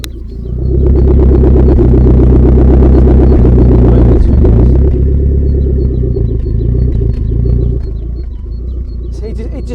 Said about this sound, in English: Look at this burble back here.